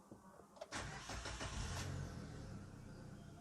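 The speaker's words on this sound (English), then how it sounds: "Okay, so let's start the car." A 2018 Maruti Suzuki Dzire VXI AMT is started with a key: a brief starter whir catches, the engine fires up close and loud, then settles into a smooth, quiet idle.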